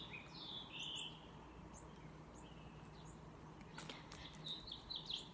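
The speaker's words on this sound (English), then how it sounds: "Listen to these birds." Outdoor birdsong in spring: several short chirps and whistled phrases, some near and some farther off, scattered over a faint steady background hiss.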